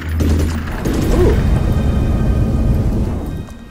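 A rain spell in the Magicka video game brings a loud thunder boom followed by a rushing wash of rain that fades toward the end.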